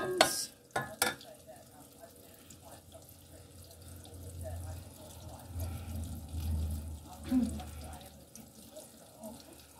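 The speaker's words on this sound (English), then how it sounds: "You have to stir them the whole time, otherwise they catch on the bottom." Eggs and beans being stirred in pans during a full cooked breakfast, with soft scraping and clinks from a utensil over a low cooking hum and some water-like background noise, a couple of sharp knocks at the start.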